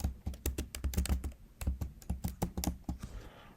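Rapid typing on a computer keyboard while entering a product brand filter: bursts of crisp keystrokes in quick uneven runs, close and clear, with short pauses between runs and no voice.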